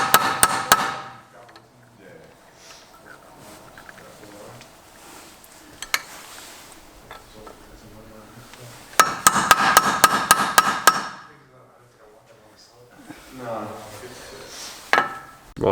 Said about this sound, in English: smack her with a hammer to break the seal of rust